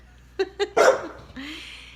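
A dog barks three times in quick succession close by: two short yaps, then a longer, harsher bark, followed by quiet room tone and a faint breathy sound.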